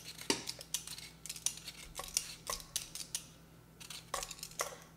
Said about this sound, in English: I'm just gonna peel these potatoes